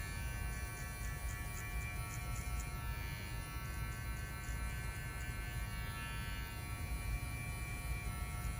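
Electric hair clippers buzz steadily while cutting a high temp fade on a customer's hair, a continuous close, faint whirring hum with no talk over it.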